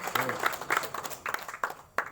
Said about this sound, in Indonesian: tepuk tangan dong buat Pak Suminta